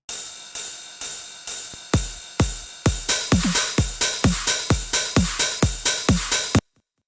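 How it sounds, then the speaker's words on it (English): Punchy drum loop with steady hits and a crisp dubstep snare over a continuous bright 909 hi-hat and ride wash, made in LMMS, speeding into denser beats before stopping abruptly. "The snare is a pretty normal dubstep snare. It sounds pretty punchy."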